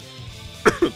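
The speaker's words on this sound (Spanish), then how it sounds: "Así que si me escuchan toser de repente, perdón por ello." A man coughs twice in quick succession at close range, two short throaty bursts near the end of an otherwise quiet moment while playing Dragon Ball Xenoverse 2.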